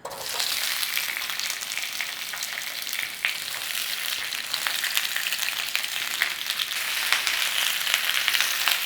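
Peppers and feta sizzle and fry hard in a hot carbon steel pan, a loud, steady, close crackle with occasional pops and no one talking.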